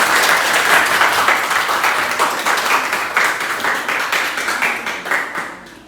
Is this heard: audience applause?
yes